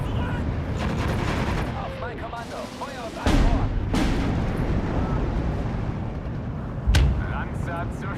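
Artillery fire in the WWII strategy game Steel Division 2, heavy booms and crackling blasts rolling under German-voiced unit chatter, with two sharp louder detonations standing out partway through.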